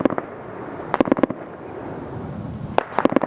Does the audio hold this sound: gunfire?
yes